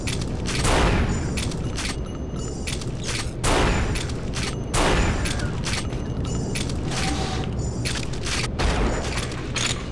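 Automag pistol fire in the shooter game Unreal Gold, repeated booming shots in bursts of roughly every second or so over a dense, loud layer of game noise.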